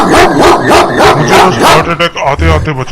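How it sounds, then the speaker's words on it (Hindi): A dog barks loudly and rhythmically in a series of close, sharp barks as a sound effect in a horror story narration, followed by a voice speaking over the end. "कुत्ते के भौंकने का शोर था।"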